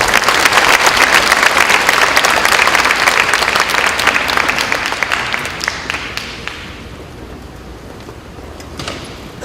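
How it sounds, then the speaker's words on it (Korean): Audience applause at an early-morning church prayer service welcoming a missionary to the front: a dense, steady clatter of many hands that gradually thins and fades away after about six seconds. "나오실 때 우리 박수로 환영해 주십니다"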